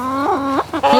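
Backyard chickens cluck and squawk loudly and up close as they crowd over fresh feed, a dense run of overlapping calls with a brief dip near the end.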